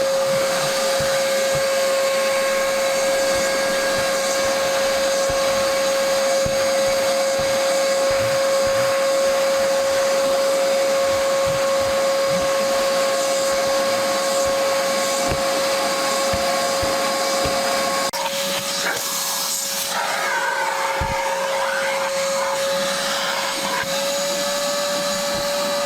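A vacuum cleaner runs steadily through a car interior clean-out, giving a loud, continuous whine with a constant tone, roughness as the nozzle works, and a brief shift in pitch and texture near the end.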